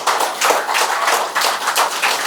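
Audience applause at a Tamil talk on heart health and happiness, a dense steady wash of many hands clapping together in a hall, loud and continuous throughout.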